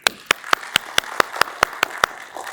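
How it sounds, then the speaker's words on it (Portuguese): Sparse, evenly spaced claps ring out one by one, about ten sharp hand claps in steady rhythm rather than full applause, in a lecture hall at a legislative course opening talk. "Salva de palmas"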